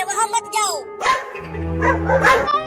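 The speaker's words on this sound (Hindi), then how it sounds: "वो कुत्ते उस लकड़ी के घर के सामने भौंक रहे हैं" Dogs bark in front of a wooden house in a cartoon, a few sharp barks heard alongside a speaking voice, fairly loud and close.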